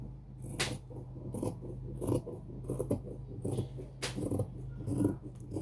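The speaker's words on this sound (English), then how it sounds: "You cut the excess fabric out." Scissors snipping excess fabric while cutting out a shirt, with a steady series of crisp, close cuts spaced roughly half a second to a second apart over a low background hum.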